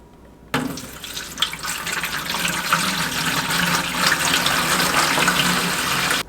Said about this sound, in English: We're going to go ahead and fill up the tanks using this distilled water.